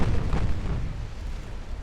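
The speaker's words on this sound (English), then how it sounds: "one of the destroyers got hit by a torpedo" A torpedo strikes a destroyer in World of Warships, a heavy booming explosion with a deep rumbling low end that hits at once and then fades into a lingering roar.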